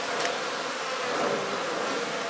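Bees buzz around an open hive frame during colony work, a continuous close, even drone of many wings with no voices.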